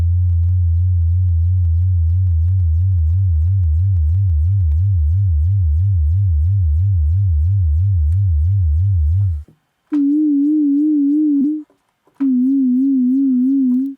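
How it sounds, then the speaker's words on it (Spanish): A pure FM synthesis tone built in Pure Data, with a slow vibrato modulating the carrier: a low wavering hum holds steadily for about nine seconds, then jumps to a higher warbling pitch that briefly cuts out and resumes. Loud, with no voices. "ya estamos empezando a escuchar el efecto de la modulación, una modulación lenta, que sería como un vibrato, sobre nuestro carrier"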